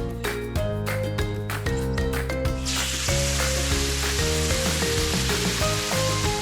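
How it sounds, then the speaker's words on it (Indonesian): Seasoned chicken fries in hot cooking oil with a steady sizzle that swells into a denser crackle partway through, heard under a loud background of music. "Kemudian, goreng ayam selama 10 menit sampai daging kecoklatan."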